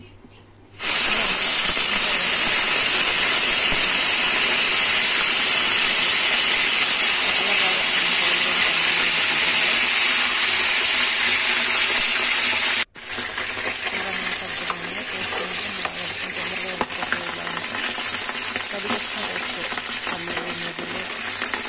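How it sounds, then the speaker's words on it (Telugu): Cumin seeds frying in hot oil give a loud, steady close hiss and crackle that starts abruptly, cuts out for an instant midway, then resumes and continues. "అందులోనే ఒక జీలకర్ర వేసి వేగుతుంటుంది"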